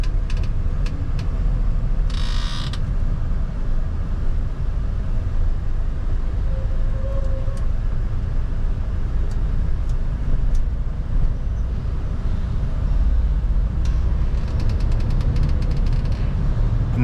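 Inside a Sprinter van descending the Via Anchieta mountain highway of the Serra de Santos, with trucks running close alongside, a loud, steady road and engine rumble continues with no distinct pass-by standing out.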